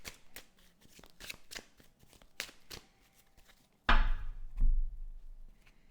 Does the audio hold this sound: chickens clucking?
no